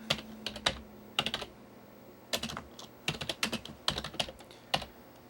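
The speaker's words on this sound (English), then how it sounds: "you can certainly type a name in for it" Typing on a computer keyboard in several quick bursts of clicking keystrokes separated by short pauses, close and fairly quiet, with no talking.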